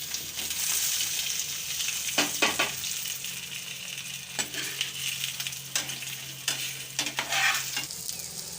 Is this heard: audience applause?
no